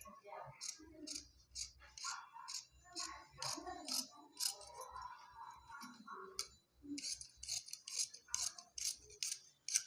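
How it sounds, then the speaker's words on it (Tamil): Scissors snip through blouse fabric in quick bursts of crisp cuts, with short pauses between strokes, quiet and close, with a voice speaking softly in between. "இப்போ கட் பண்ணுறேன் பாருங்கள்."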